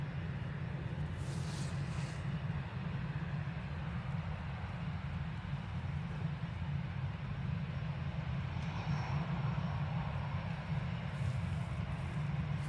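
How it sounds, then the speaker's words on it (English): An ATR turboprop taxis slowly at Dublin Airport, giving off a steady, continuous engine drone with a low rumble that holds level throughout, heard from a moderate distance. "Very slow taxi by the ATR, but it is coming down to Sierra 7."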